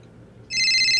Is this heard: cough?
no